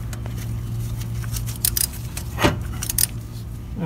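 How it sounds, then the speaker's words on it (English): A ratchet wrench loosens a bolt on a Honda engine during a timing belt job, giving short bursts of metallic clicking and jangling over a steady, low workshop background. "Just finish ratcheting that off."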